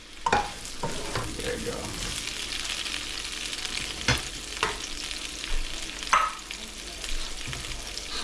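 Tomatoes, onion and chili sautéing in a hot pan, a steady close sizzle broken by sharp scrapes and knocks of a utensil stirring, with a brief spoken remark.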